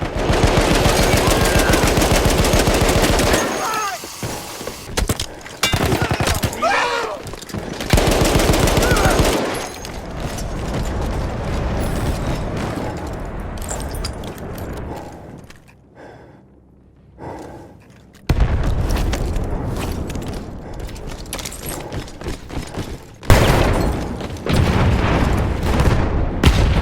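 Battlefield 1 campaign combat: loud bursts of machine-gun fire and heavy booms alternate with brief lulls, ending in renewed rapid gunfire and a large explosion.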